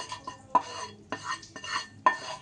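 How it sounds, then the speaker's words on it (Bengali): Cooled spice mix for a rohu fish thecha dish is scraped into a mixer jar, with four or five distinct scraping and clinking strokes of a spoon against the container, close by and unaccompanied by speech. "এবার এটাকে মিক্সির বাটির মধ্যে নিয়ে নিচ্ছি"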